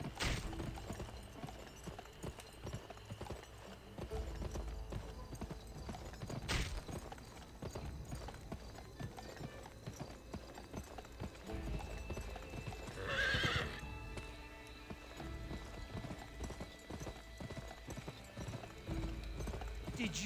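Horse in the video game Gun, hooves clip-clopping in a steady galloping rhythm with a loud whinny midway, over game music and effects.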